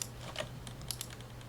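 A deck of cards for the Lord of the Rings card game is shuffled in a brief, quiet burst of rapid papery clicks, close by and with no talking.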